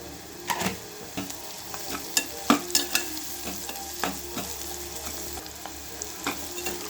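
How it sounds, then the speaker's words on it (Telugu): Turmeric and onions frying in oil for an egg curry, a close, busy sizzle with repeated scraping stirs and spatula knocks throughout, no voices. "పచ్చి వాసన పోయిందాక ఇట్లా పసుపు వేయించుకోవాలి"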